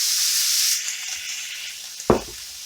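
Two tablespoons of water hit a hot pan of fragrant garlic, and a bright steady sizzle hisses up close for about two seconds before it dies down. A short stirring scrape follows near the end.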